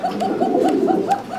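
A native pigeon at a fancy-pigeon market gives a run of soft, repeated throaty coos in quick succession, close and clear with no talk.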